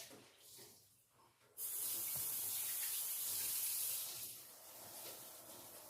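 Kitchen tap turned on for hand washing, a sudden loud steady hiss of running water that continues to the end after a quiet opening.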